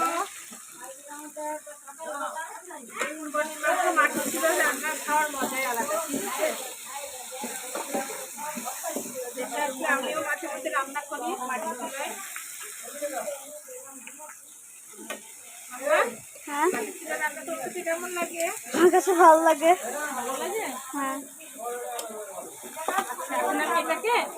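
Meat poured into a hot pot on a clay stove for Eid sacrifice (Qurbani) cooking, crackling and sizzling steadily throughout with stirring and bursts of louder frying, with people talking over it.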